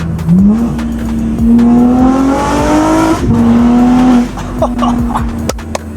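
A BMW M3's exhaust roars up through the revs in second gear, droning loudly and rising in pitch before easing off, with faint tire noise underneath.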